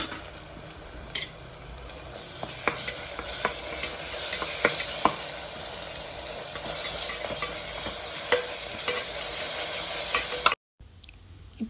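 Onions frying with ginger-garlic paste in a pan for bagara rice, a steady sizzle with scattered stirring scrapes and ticks, close and continuous, then a brief cut to silence near the end.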